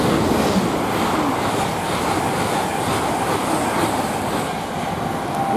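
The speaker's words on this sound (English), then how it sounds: "And we've got another train coming the other way." A train rumbles steadily through Didcot Parkway railway station, a loud, continuous close roar of wheels on rails with faint clatter, lasting throughout.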